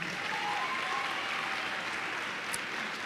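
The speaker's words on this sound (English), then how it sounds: "Let's give our platform guests a round of applause." Graduation audience at Independence High School applauds the platform guests, a steady, even wash of clapping from a large crowd heard at a distance, sustained throughout with no voices.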